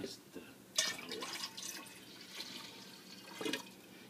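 Strained hibiscus water poured into a container of more water while making agua fresca de Jamaica, a soft splashing pour with a few louder gushes, faint and close, under a voice speaking.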